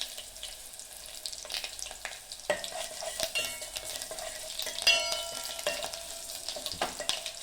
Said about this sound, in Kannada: ಸಾರಿಗೆ ಒಗ್ಗರಣೆ ಹಾಕ್ಕೋತಾ ಇದ್ದೀನಿ. ಸಾಸಿವೆ ಸಿಡಿತಾ ಇದೆ, ಬೆಳ್ಳುಳ್ಳಿ ಹಾಕಿದ್ದೀನಿ.